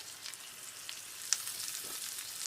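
Chard and coriander sizzle quietly in a pan while being stirred, a soft steady crackle with a few small pops and scraping ticks, heard close and alone.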